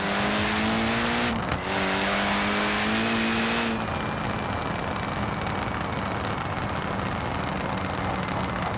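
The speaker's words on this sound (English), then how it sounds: "That's the sound a rally car is supposed to make." In Forza Horizon 4, a turbocharged Toyota Celica rally car holds a buzzing, steady engine note that climbs through a gear change, then lifts off into rough crackling pops and rumble, loud and up close.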